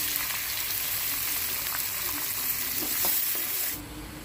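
Onions sizzle and crackle steadily in hot oil, a dense frying hiss that drops off abruptly near the end.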